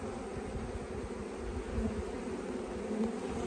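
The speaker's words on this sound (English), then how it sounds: "I'm trying to scooch these bees so I can see the queen" Package honeybees being installed into a hive make a dense, continuous buzzing hum from a large crowd, close and steady throughout with no talk.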